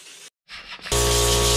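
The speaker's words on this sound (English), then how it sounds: "I'm gonna spray it, scrub it down again" Degreaser sprays onto an LS-swapped Miata engine. A few short faint hisses and a brief gap lead into a loud, steady, close hiss of spray that runs to the end.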